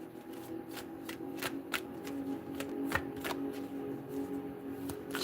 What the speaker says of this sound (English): Shuffling for Sagittarius.